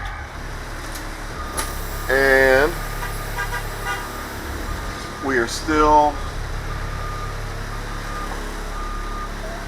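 Engine of a 2001 spare school bus running on a rainy morning, a steady low drone with air-conditioning hiss, two short horn-like tones rising over it, while someone talks.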